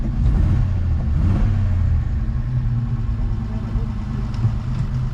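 A cheap Rover P4 under restoration runs its engine in a steady, close, low rumble that holds at an even level throughout, with no sharp rises.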